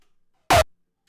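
A single short synth punch hit, exported from Serum before any effects, bursts once with a bright full-range thump and a brief tail, then silence.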